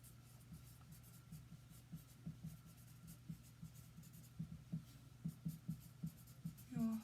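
Handwriting on paper, a steady series of soft pen or marker strokes scratching in irregular bursts, close and fairly quiet over a low constant hum, with no talking.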